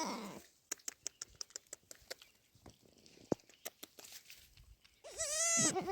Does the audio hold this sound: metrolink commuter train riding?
no